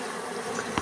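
Honey bees buzz around a beehive box in a short, steady, close hum, with a brief sharp tick at the very end.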